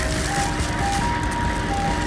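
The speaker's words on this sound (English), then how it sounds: "Bye, ice cream truck." An ice cream truck plays a thin, steady melodic tone over a continuous rumbling engine, heard nearby and loud without clear talk.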